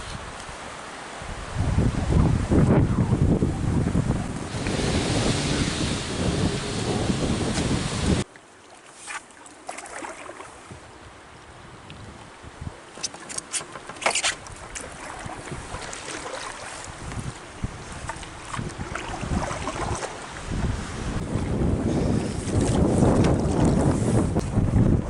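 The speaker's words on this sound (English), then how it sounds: "Bit of a wind gust today" Gusty wind buffets the microphone on a canoe trip through the woods, roaring in strong bursts that drop off for a stretch and then build again, with no voices.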